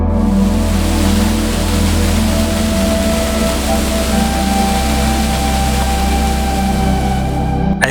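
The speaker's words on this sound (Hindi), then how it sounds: "थोड़ा ही आगे बढ़ने पे हमें दिखता है द हमंगस वज्राई वाटरफॉल।" The large three-tiered Vajrai waterfall near Satara, a loud, steady, unbroken roar of rushing water that continues without pause.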